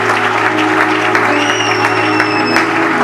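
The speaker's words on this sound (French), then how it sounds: "Acclamez la parole, les amis." A church congregation at a Sunday service claps loudly and continuously, a dense steady applause filling the space, with a faint voice beneath it.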